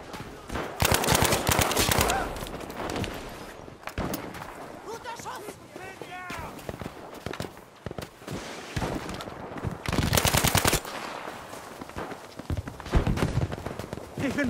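Bursts of rapid automatic gunfire and single shots ring out in the Battlefield V video game, loud clustered volleys separated by quieter stretches with in-game voices and effects between them.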